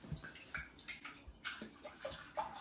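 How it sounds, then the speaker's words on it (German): Tap water runs into a cooking pot in a home kitchen, giving faint, uneven splashing and trickling with no talk over it. "Und jetzt mache ich da erstmal Wasser rein."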